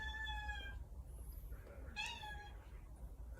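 A cat named Blackie meows twice, a long drawn-out call followed by a shorter one about a second later, close by over a low background rumble.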